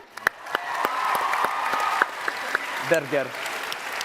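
Audience at the DreamSMP panel at TwitchCon Amsterdam cheers and claps, a steady crowd wash with sharp claps and a short voice rising over it near the end.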